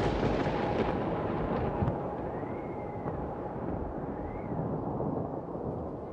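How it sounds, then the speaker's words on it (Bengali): A cartoon storm roars continuously alongside a flooded river in spate, a loud, dense, unbroken rush of wind and water throughout. "এই ঝড়, এই নদীর গর্জন"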